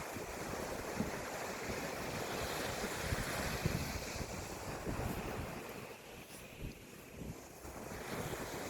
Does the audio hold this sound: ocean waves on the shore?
yes